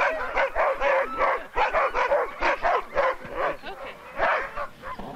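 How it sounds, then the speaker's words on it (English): Sled dogs bark and yip excitedly before the Iditarod race in Alaska, a dense, continuous chorus of overlapping barks from several dogs close by. "This is my lead dog, Tekla, and I got her when she was a little"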